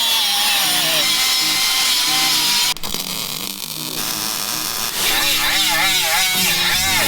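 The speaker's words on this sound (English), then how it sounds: "Pedals, cut that gusset." A power tool whines loudly and steadily while cutting a metal gusset for a demolition derby car, then pauses briefly and resumes with a wavering pitch as the blade loads up; voices are heard in the shop.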